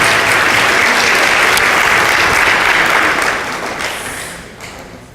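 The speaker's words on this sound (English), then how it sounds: "Can we please give her a round of applause" Dense, sustained applause from a large audience at a formal academic ceremony, loud and steady for about three seconds, then gradually thinning and fading toward the end.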